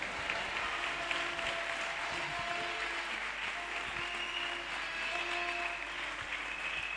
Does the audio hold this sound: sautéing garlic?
no